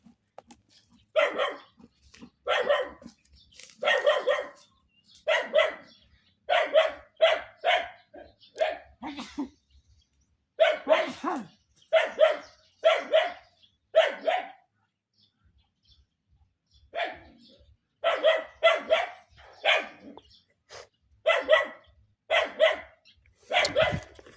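A dog barks over and over, loud and close, in quick bursts of several sharp barks with short pauses between them for about twenty-four seconds.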